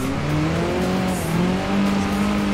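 A Lamborghini Aventador in the Forza Horizon racing game brakes hard with a loud, steady engine drone and tyre noise that holds close and constant throughout, with no talking.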